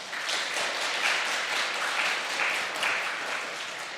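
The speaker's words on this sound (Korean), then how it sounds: "이 시간 박수 한번 하십시다." A church congregation applauding together at a Wednesday worship service for a temple dedication, steady dense clapping sustained throughout with slight swells, no voices over it.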